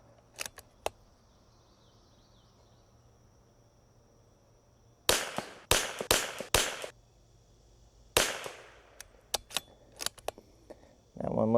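.22LR rifle shots fired with test rounds that had been dropped on a table, heard as sharp, close cracks, a few sparse early shots and then rapid clusters with gaps between.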